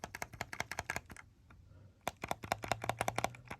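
Clicky shoulder buttons on an 8BitDo Ultimate controller are pressed in quick bursts of sharp, close clicks, with a brief pause before the rapid clicking starts again.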